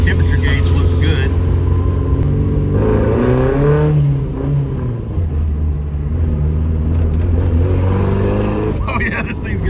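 A Suzuki Samurai with a swapped 1.6L 16-valve engine runs loud and close, its steady rumble rising and falling with revs while people talk over it.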